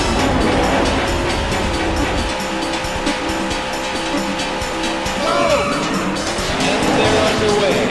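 Race car engines roar to life at the start of a Daytona USA arcade race, a dense loud mechanical drone with revving and skidding layered throughout, swelling again near the end.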